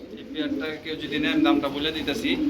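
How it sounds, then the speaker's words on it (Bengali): Racer pigeons of a DB line at a pigeon market give soft, repeated cooing in a low rolling rhythm, close by, with people talking over it. "এটা অরিজিনাল ডিবি লাইনের কবুতর"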